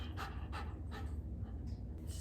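A five-month-old black Labrador puppy pants close by, quick, soft, rhythmic breaths repeating about twice a second over a low, steady background rumble.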